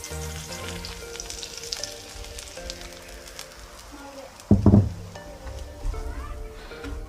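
Semolina roasting in a pan over a low flame for homemade gulab jamun gives a soft, steady sizzle. Near the middle comes a brief louder burst, likely from stirring or something being added.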